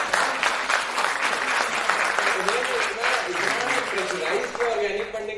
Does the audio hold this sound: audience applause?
yes